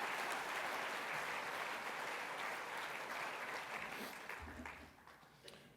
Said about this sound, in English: So if you would indulge me just for a moment in just a short round of applause